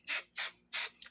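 Three short, loud hissing bursts of quilting spray baste hit fabric up close, with brief gaps between them. A softer fourth puff follows at the end.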